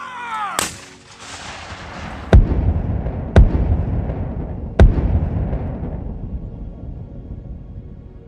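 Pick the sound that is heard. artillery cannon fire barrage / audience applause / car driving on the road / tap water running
artillery cannon fire barrage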